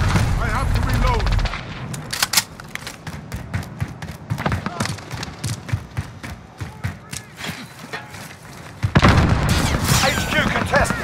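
Rapid video-game gunfire in a multiplayer match, with bursts of automatic shots and single cracks coming close and loud over a busy battle, while a voice talks in between.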